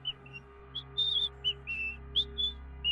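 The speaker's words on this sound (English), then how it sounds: "it's that same shrill whistle" A shrill human whistle repeats in short high bursts at an uneven rhythm over a low steady hum, with no talk.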